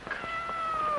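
A cat gives one short, close meow with a rising then gently falling tone, heard alone and fairly faint.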